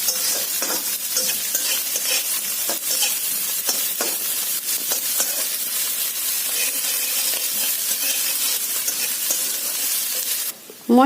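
Crushed ginger and garlic fry in oil in a pan, giving a continuous close sizzle broken by the repeated scrape and clatter of stirring, with no talking.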